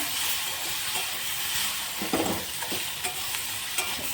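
Spices sizzle with salt and turmeric in a hot pan. The hiss is dense and steady, with a few stirring knocks near the end.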